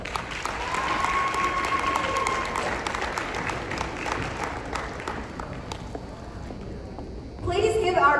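Gym crowd at a senior sports recognition applauds steadily, the clapping thinning out before a voice starts speaking at the end.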